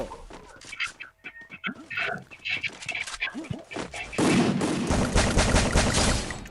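People talk excitedly, then a burst of rapid, continuous gunfire breaks out and keeps going, loud and close.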